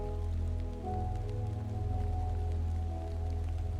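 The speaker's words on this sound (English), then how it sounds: "I don't think this rain is stopping anytime soon." Steady rain pattering on surfaces in HollowBody, a quiet continuous wash under a low humming drone, with no talking.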